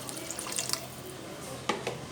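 Water from a kitchen tap pours into a pot of rice and soft-cooked potatoes for egg pulao, a steady close splash with brief louder bursts.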